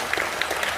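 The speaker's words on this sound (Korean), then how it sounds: "박수 부탁드립니다." Brief burst of audience clapping at a ceremony for elder abuse prevention day in Ulsan, a dense crowd applauding evenly and close, cut short.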